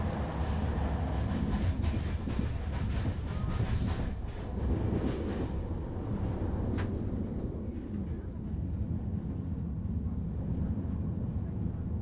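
A train moves through open countryside with a steady, dense rumble of rolling wheels and a constant low roar, heard continuously from nearby at moderate level with a few brighter clanks and squeals along the way.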